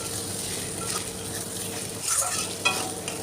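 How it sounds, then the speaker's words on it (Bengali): Prawns are stir-fried with spices in a pan that is catching on the bottom, giving a steady near sizzle with a few spoon strokes and scrapes. "আমি চিংড়ি মাছটা দিয়ে একটু কষিয়ে নিলাম ভালো করে"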